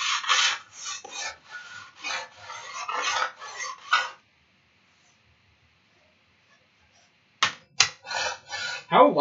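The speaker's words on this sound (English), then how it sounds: "How loud and annoying is this sanding sound, filing sound, by the way?" Repeated rasping strokes of a file on a ski's steel edge scrape in quick bursts, then a pause of near silence, then more strokes resume.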